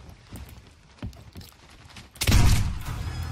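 Cannon fire at an enemy ship in a pirate game, a few soft thuds and clunks followed by a heavy booming blast that rumbles on for about a second.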